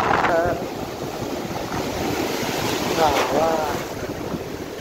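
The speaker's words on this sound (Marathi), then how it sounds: "काय भारी लाटा आहे." Ocean waves wash and rumble steadily on Bhuigaon beach in Vasai, a continuous broadband roar with wind buffeting the microphone and faint voices in the distance.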